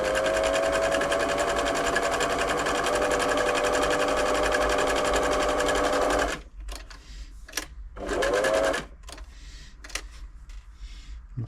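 Singer 6104 sewing machine sewing a short, narrow zigzag stitch after servicing, a steady fast mechanical whir for about six seconds, then quiet clicks and a brief second burst of stitching, close and alone.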